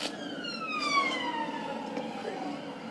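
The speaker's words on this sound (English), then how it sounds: "a police car with sirens can be heard in the background" A police car siren passes in the background, a faint wail whose pitch sweeps downward under a steady hum of ambient noise.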